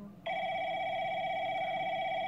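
A phone on a found, lost handset rings with a steady electronic two-tone trill that starts abruptly after a brief quiet moment and continues loud and unbroken to the end.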